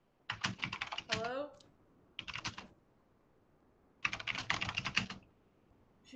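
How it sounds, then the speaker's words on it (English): Rapid, furious typing on a computer keyboard comes in dense bursts of clicking clatter, with pauses between them and a brief voice murmuring near the start. "She's just typing furiously."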